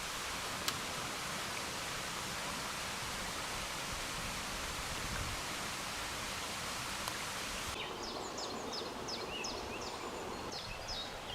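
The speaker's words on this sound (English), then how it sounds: "Well, we found running water." Faint, steady rushing of running water inside a flood defence drain passage at Lower Lydbrook in the Forest of Dean, a continuous hiss with no voices.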